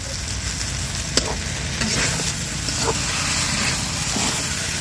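Taro greens stir-fried in a pan, a constant close sizzle with occasional spatula clicks and scrapes, one sharp knock early on, no one speaking.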